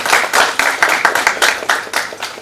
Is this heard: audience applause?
yes